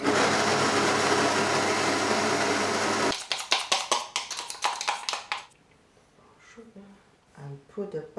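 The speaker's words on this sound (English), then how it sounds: "I'm going to blend this sesame and roasted peanuts, but my blender is too small." A small kitchen blender grinds sesame seeds and roasted peanuts, a loud, dense whir for about three seconds that stops abruptly, followed by scattered tapping and handling sounds.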